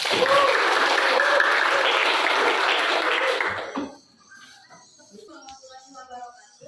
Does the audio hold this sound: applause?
yes